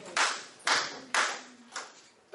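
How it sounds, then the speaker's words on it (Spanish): A group performs a 'warm applause' routine, clapping in four loud, evenly spaced bursts that each swell and fade, with no talking. "voy a enseñarles el aplauso caluroso"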